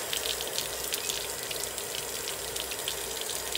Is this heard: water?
yes